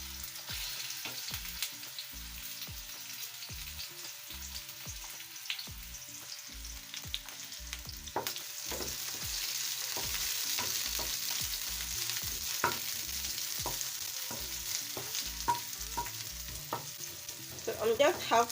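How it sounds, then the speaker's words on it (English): Onions half-frying in a pan while making a fish wet fry give a steady close sizzle, with regular stirring scrapes and taps running throughout. "So I'm just half frying the onions."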